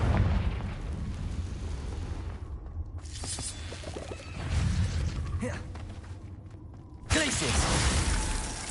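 The Confringo fire-blast spell in a Harry Potter video game lands as loud booming explosive bursts with rumbling tails, separated by quieter stretches of crackle and game noise.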